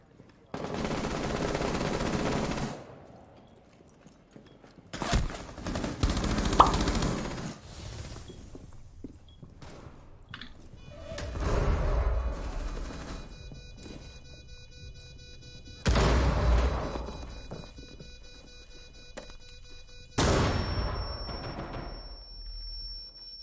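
Gunfire in Rainbow Six Siege comes in several separate loud bursts of rapid shots, the longer volleys broken up by quiet gaps. A voice is heard faintly between the bursts.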